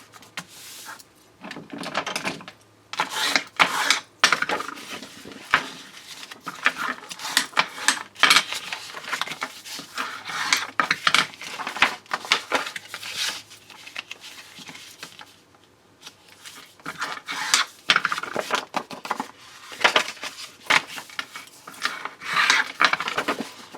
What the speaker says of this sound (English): We're going to fold it on all the score lines.